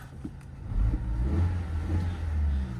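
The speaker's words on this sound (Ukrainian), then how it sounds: "Двигун працює ідеально, оберти не плавають." An Audi A4 engine runs close by with a low, steady rumble, its revs rising slightly and holding even throughout.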